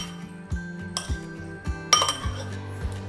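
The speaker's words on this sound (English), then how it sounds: "Then we just mix it together" An avocado snack being mixed in a bowl with a utensil gives a few sharp clinks and scrapes against the bowl, over a soft steady musical backing with no talking.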